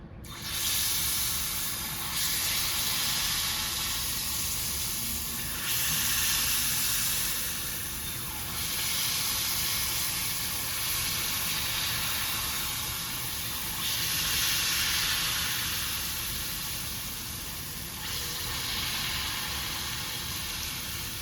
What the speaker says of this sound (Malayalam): നമ്മുടെ ചട്ടി ചൂടായിട്ടുണ്ട്. ഇനി നമ്മളിതിലോട്ട് മാവ് ഒഴിച്ചു കൊടുക്കാം.